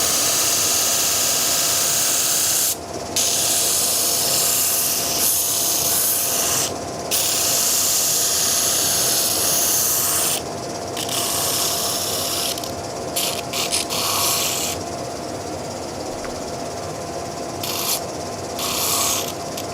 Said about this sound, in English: We're going to sand away the back.